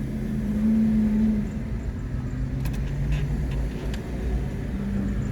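A Ford car with a failed shifter bushing, patched with zip ties, drives laps in Orlando traffic, giving a continuous low engine drone and road rumble heard from inside the cabin, with no talking.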